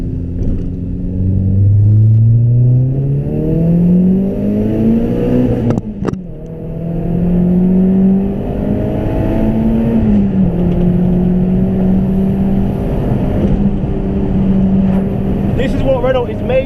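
A Renault Clio RS 197 accelerating hard on back roads with traction control off, its engine loud and close, rising steadily through the revs, a brief gear change, then climbing again.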